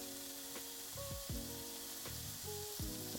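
Bacon sizzling in a frying pan, a soft continuous crackle and hiss with a few faint clinks and scrapes over it.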